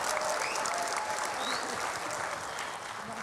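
Audience applause at a live talk-show event with a former Jakarta governor, steady dense clapping filling the room throughout, fairly loud, with no speech over it.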